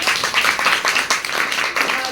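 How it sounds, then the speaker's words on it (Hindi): Audience at a DXN business meeting clapping hard on request, a dense, loud, close patter of many hands that stays steady and brief, with some voices blended in. "जोरदार ताली बजाइए"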